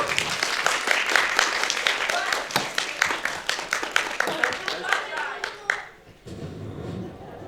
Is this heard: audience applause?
yes